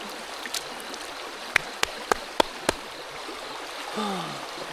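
Water splashes and trickles as someone washes their face outdoors at a cold morning tent camp, with a few sharp taps and a stream-like wash of sound, faint and close, no talking.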